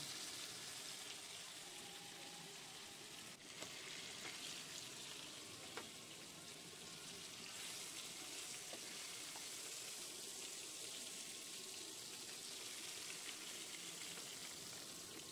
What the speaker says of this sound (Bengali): এবার ওই তেলটার মধ্যে আমি ম্যারিনেট করা মাংসগুলো দিয়ে দিলাম ভাজতে।